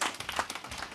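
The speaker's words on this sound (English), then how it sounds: "Please give a round of applause to Marek." A short, quiet patter of hand clapping from an audience welcoming a guest onto a conference stage, brief and fairly even.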